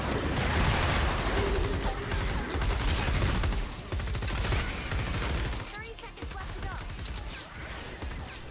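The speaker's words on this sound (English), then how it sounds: "Oh, I'm throwing a grenade." Grenade blast and dense gunfire in Fortnite: Save the World, a loud, continuous barrage of shots and booms with clattering mechanical sounds, thinning out toward the end.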